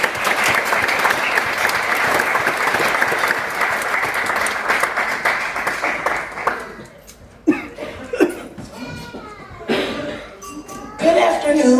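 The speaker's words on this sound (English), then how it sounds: "If you would please join me in welcoming Dr. Tamara Butler to the podium with a round of applause" A crowd claps loudly and steadily for about six seconds to welcome a woman to the podium at a New Year's Eve Emancipation Proclamation event. The applause then thins out into scattered claps, laughter and murmuring voices.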